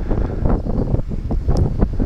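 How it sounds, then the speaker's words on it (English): Strong gusts batter the microphone at a model glider contest airfield in Dupnitsa, Bulgaria, producing loud, rumbling, buffeting wind noise that surges and dips throughout with no voices. "very windy day"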